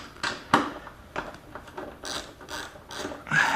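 A ratchet with a deep-well 10 mm socket clicks in short, irregular bursts while bolts beneath a motorcycle seat are broken loose, close and crisp with small pauses between strokes.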